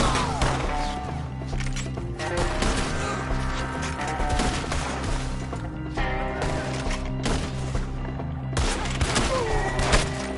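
Gunfire during a shootout in Red Dead Redemption 2: rapid, layered rifle and pistol shots crack repeatedly over a dense backdrop of game music and rumble, loud and sustained throughout.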